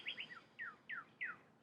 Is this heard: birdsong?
yes